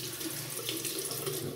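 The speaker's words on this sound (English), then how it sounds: "Just rinse off." Water runs steadily from a tap into a sink while a razor is rinsed, a continuous moderate hiss and splash with no speech.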